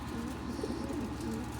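Pigeons cooing close by in a short, continuous burst of low, throaty coos over a steady background hum, with no talking.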